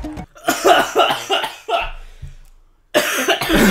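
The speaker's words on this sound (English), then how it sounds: "Why am I the only one coughing at each one?" Someone coughs repeatedly in a rough, rapid fit, pauses briefly, then coughs again; close and loud.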